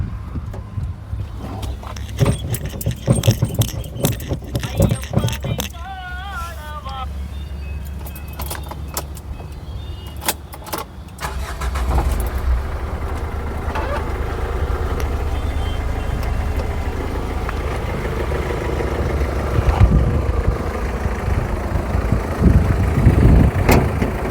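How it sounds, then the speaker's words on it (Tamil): Keys jangle and rattle, then an engine turns over and settles into a steady, low idling rumble that continues to the end. "வண்டி ஸ்டார்ட் பண்ணி காட்டுற பாருங்கள்"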